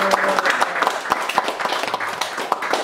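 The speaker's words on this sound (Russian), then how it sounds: "Давайте аплодисменты." Applause from an event audience, many hands clapping in a dense, uneven patter with sharper individual claps standing out, fairly loud and close, with no talking over it.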